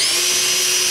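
A power drill pre-drills holes in metal mounts for roof rack lights on a Ford Expedition, whining steadily at high speed and close up for the whole second, with no pauses or voices.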